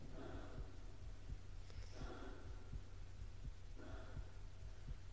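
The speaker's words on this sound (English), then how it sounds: "I didn't know I could hear Gordon's heartbeat." A slow, low heartbeat of the player character in the video game Half-Life thumps steadily under a faint hum, with a couple of soft breathy gasps, quiet throughout.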